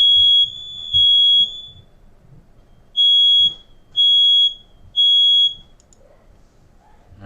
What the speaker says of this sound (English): it triggered all the alarms